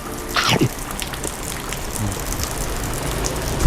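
Steady hiss of morning rain falling outdoors at a chicken porridge stall, constant and broad, with a few faint clinks and bumps near the start.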